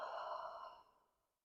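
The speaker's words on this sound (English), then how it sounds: "an equally slow and steady exhale" One slow, steady exhale in a yoga breathing exercise, a soft breathy whoosh close by that holds even for most of a second and then tapers away quietly to silence.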